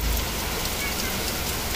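Heavy first monsoon rain pours down in Nashik as a dense, unbroken roar of close downpour, steady and loud throughout, with no voices.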